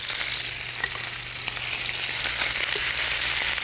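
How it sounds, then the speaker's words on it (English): Chicken breast sears in a hot pan, giving a steady, loud sizzle and crackle with no talking. "we're going to sear that first, so that will seal it"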